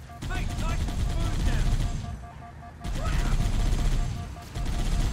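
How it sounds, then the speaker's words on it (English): Gunfire in the video game Halo CE: Anniversary: continuous rattling bursts of automatic fire, loud and close, with a short lull partway through before the shooting resumes. "Alright already, stop shooting me!"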